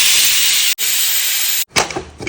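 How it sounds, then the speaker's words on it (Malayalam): A pressure cooker on the stove with jackfruit inside blasts loud, close steam whistles: two sustained hissing bursts separated by brief gaps, then a rougher, fluttering release at the end. "അപ്പോൾ വേവ് ആകത്തോണ്ട് വീണ്ടും 2-3 വിസിലടിപ്പിച്ചതാണ്."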